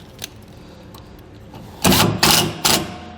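A self-tapping screw is driven into an Optronics trailer light with a power driver, giving three short whirring bursts close by over faint background noise.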